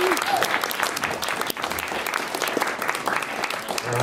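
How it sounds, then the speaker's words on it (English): An audience applauds the panelists at the close of an evening civil rights event in Northampton, Massachusetts, with steady, dense clapping from a full room that sounds close and fills the whole moment without voices. "I'd like everybody to give a round of applause for all the panelists that we had tonight"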